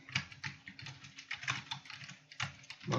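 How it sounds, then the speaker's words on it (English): Quick bursts of keystrokes on a computer keyboard while network settings are entered in Packet Tracer, clicking in uneven clusters close up with no talking. "They type it in here."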